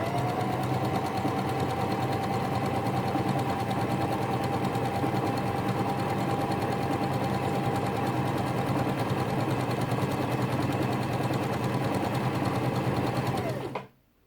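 A Janome FD206 or RE1306 sewing machine runs a 3-step zigzag stitch, its steady motor whir and needle clatter holding at an even pace for about thirteen seconds before winding down and stopping abruptly.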